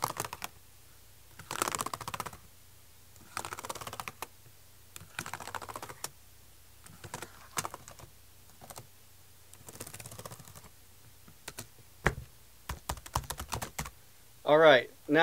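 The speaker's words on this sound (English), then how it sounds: "I said I do love typing on this." Bursts of rapid typing on an IBM ThinkPad X31 laptop keyboard come in clusters with short pauses between them, close and crisp, ending with a brief tonal chirp.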